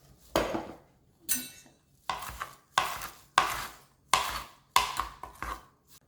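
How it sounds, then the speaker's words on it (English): A knife minces leafy greens for a corn salad in a series of sharp, close chopping thuds on a board, coming in quick bursts with short pauses between them. "Now we are gonna mince all of our greens."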